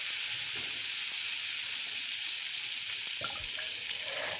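Cumin, green chili and ginger-garlic paste sizzle in hot butter and oil, a loud, steady hissing fry held throughout, with a few faint clicks and a brief clatter near the end and no talk.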